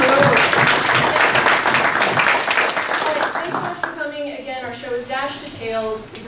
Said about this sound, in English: can we just give a little round of applause to Pete